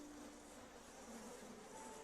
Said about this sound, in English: we have to look at swarming bees like this